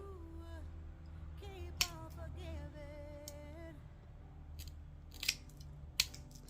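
Tile nippers snap through diamond-shaped mosaic pieces, cutting each in half: sharp, close clicks at scattered moments, loudest around two seconds in and again near the end, over a low steady hum.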